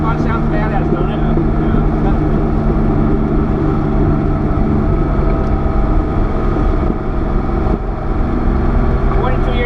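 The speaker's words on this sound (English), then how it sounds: "car sound on the car sounds badass, don't it?" A 42-year-old Porsche 930 Turbo engine drones steadily and loudly from inside the car, a continuous low rumble that holds for the whole stretch.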